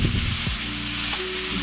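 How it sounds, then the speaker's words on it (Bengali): Whole garam masala spices frying in hot oil, a short steady sizzle with a few low knocks at the start. "গরম মশলাগুলো তেলের মধ্যে ভেজে নিচ্ছি"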